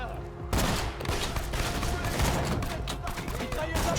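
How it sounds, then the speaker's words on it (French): Sustained burst of rapid machine gun fire in the shooter video game Borderlands 2, dense overlapping shots starting abruptly after a brief quiet moment and continuing loudly to the end. "Mitrailleuse en place."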